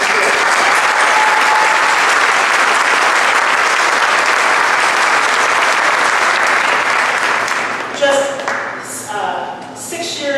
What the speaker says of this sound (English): would like you to give her a round of applause.